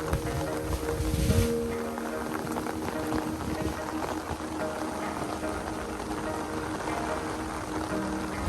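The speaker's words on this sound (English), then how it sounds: "the wind is picking up for sure" Strong hurricane wind from Hurricane Milton in Orlando roars steadily throughout, with a louder gust surging early on, close and buffeting, over a dense broadband rush.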